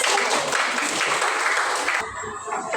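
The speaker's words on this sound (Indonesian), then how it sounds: "Oke, tepuk tangan untuk." A group claps together in a loud, dense burst that stops abruptly after about two seconds, leaving quieter room noise and a voice as it dies away.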